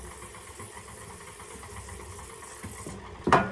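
A food processor pulses a crumb crust mixture for a baking challenge, its motor running in a steady, droning hum for about three seconds before a brief louder clatter at the end.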